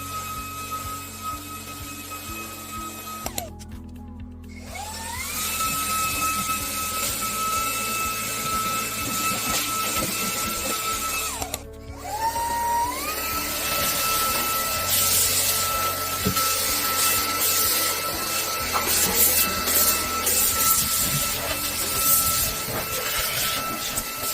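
Loud high-pitched whine of a small cordless vacuum and air duster motor running steadily, cutting out briefly twice and restarting with a rising pitch, close by.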